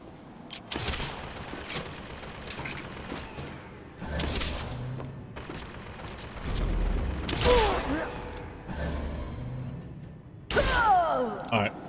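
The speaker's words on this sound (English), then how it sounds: "What the hell is he shooting?" Gunfire from Bioshock Infinite: Burial at Sea comes in repeated loud bursts and single sharp shots, with thuds and mechanical clatter in between, and a voice talks over parts of it.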